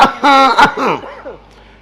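A few harsh coughs in quick succession, close and loud, trailing off into a softer throaty sound.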